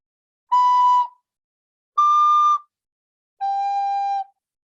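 Three clear, sustained tin whistle notes played alone with short pauses: B in the middle, up to a higher D, then down to a lower G.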